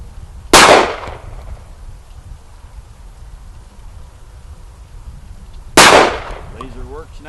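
Two sharp, loud pistol shots from a Ruger LC9S, roughly five seconds apart, each cracking out over a quiet background and fading quickly.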